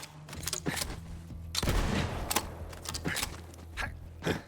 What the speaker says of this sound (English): It has 3 shots in the shotgun and it consumes 3.